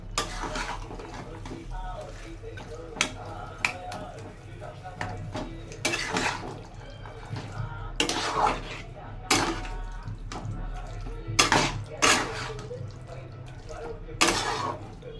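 Spices (turmeric, salt, sugar and cumin powder) being stirred in a pan: repeated scraping and clanking of a utensil against the pan in irregular bursts, over a low background hum, with a voice talking at times.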